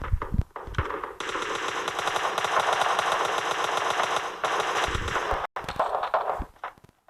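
Sustained automatic gunfire in PUBG Mobile Lite, a dense loud burst of rapid shots lasting several seconds with brief gaps, then a few scattered shots and lighter game sounds at the end.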